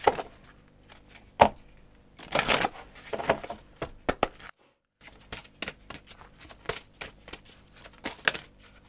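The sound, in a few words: shuffling tarot cards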